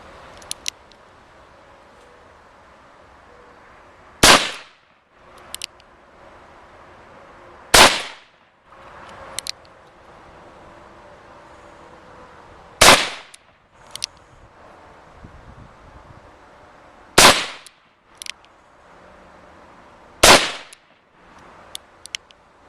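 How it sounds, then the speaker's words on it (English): Five sharp, loud gunshots from a Smith & Wesson Model 53 handgun chambered in .22 Remington Jet, fired one at a time with pauses of several seconds and heavy concussion, over quiet outdoor background. "it's tremendous concussion with this handgun"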